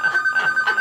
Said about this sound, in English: can I get a volunteer to go pick up the phone?